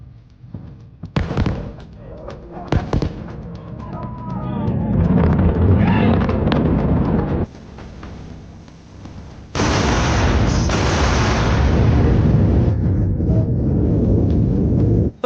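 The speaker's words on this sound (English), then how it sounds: "Yes, you can hear really weird explosions." Two Falcon Heavy first-stage boosters return to land, and their sonic booms arrive as sharp distant bangs in quick succession, followed by rumbling and crowd noise, with people talking throughout.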